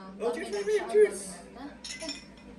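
Glasses clink together in a toast among a lively group, bright short chinks mixed in with overlapping cheerful talk and voices.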